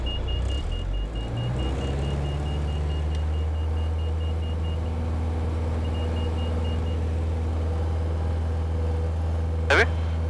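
Light aircraft engine at full throttle during a go-around, a steady, loud, droning cabin rumble that stays constant throughout, with faint voices partly under it and a brief high chirp near the end.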